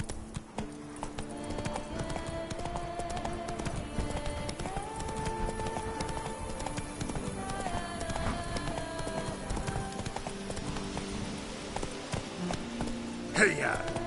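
Hooves of the horse Roach clip-clop steadily at a run in The Witcher 3 on PS4, a continuous rhythmic patter under game music and ambience, with a rider's voice over it.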